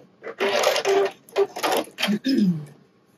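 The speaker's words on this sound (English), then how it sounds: "I'm going to backstitch a little bit at the top." A sewing machine backstitches at the top of a bra strap in short stop-start bursts, several quick close runs of stitching with pauses and a falling whine at the end.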